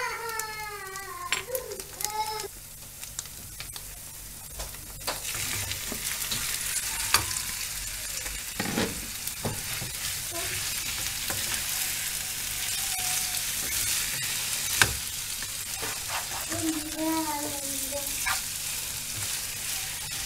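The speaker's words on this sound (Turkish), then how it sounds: "Daha sonra patlıcanları üzerine koyup kavuracağım." Eggplant is sautéed with tomato paste, chili flakes, black pepper and salt in a pan, keeping up a steady crackling sizzle with stirring scrapes, while a baby cries and whimpers nearby at the start and end.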